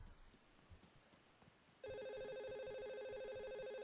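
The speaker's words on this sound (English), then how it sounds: "I've got a phone call." A phone rings with an incoming call during a Day Z game session, a steady electronic ringtone starting abruptly partway through and holding loud and constant to the end.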